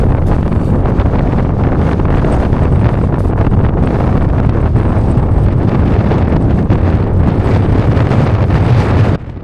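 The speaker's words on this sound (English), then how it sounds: "It's so windy." Strong, steady wind roars and buffets near the summit of Humphreys Peak, a loud, continuous gusting rush against the microphone with no voices.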